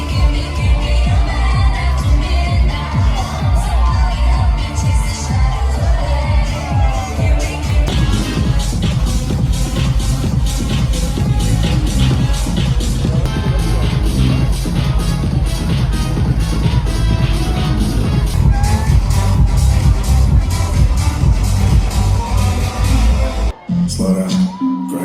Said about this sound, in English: It does attract a big crowd.